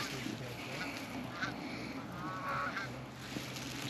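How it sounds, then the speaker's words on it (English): A flock of geese honks while flying in during an early-season goose hunt in Minnesota, with several overlapping calls at a distance over a faint outdoor background. "We got another big flock coming in behind us"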